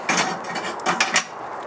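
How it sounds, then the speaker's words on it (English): Metal grill grate set down in a Kamado Joe Classic grill, giving a few short clanks and scrapes of metal on metal, close and moderately loud, with no talk. "And then I'm gonna put this grate"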